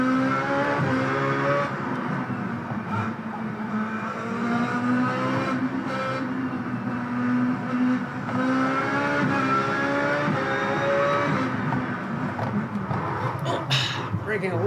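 Race car engine in the iRacing video game at Sonoma Raceway, droning loudly and continuously with rising and falling revs through shifts and braking, with tire noise and occasional talk over it.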